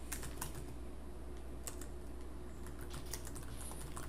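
Steady typing on a computer keyboard while entering text into a Google Docs title page, with quick irregular key clicks running continuously throughout over a low constant hum.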